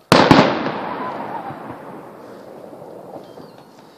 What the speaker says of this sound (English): Depends on how long they have fireworks or how much fireworks they got.